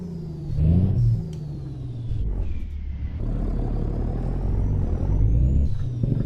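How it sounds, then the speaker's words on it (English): Heavy truck engine in American Truck Simulator, a custom Hi Way Killer build heard from the cab with the windows up, a loud steady diesel rumble that rises as it accelerates through gears, with a faint air-brake hiss. "I actually think this engine sounds better with the windows up"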